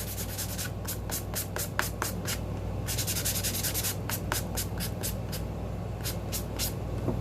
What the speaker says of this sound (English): I'm scratching up even the regular paper.